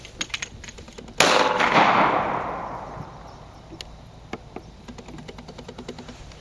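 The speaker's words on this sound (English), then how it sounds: "I'm gonna try to take a couple shots with my Taurus here" Gunshots from a Taurus firearm at outdoor target practice: a few sharp cracks, then one loud close shot with a long fading echo, followed by scattered smaller clicks and knocks.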